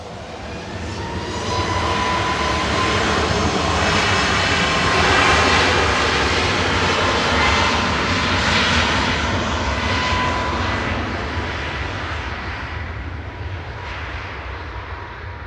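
A SmartLynx Boeing 737 MAX 8 jet roars past on its way to Olbia, a broad, loud engine rumble that swells over several seconds and then slowly fades.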